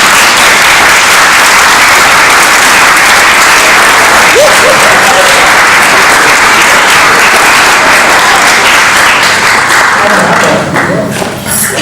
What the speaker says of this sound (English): please come up and take a round of applause